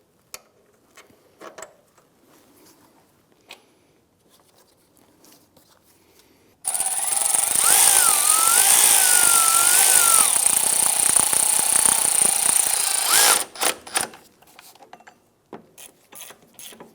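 A power tool drives the lower exhaust manifold bolt on a 1997-2006 Jeep Wrangler. A loud, steady mechanical whir lasts about six seconds, with scattered light clicks and taps of work before and after.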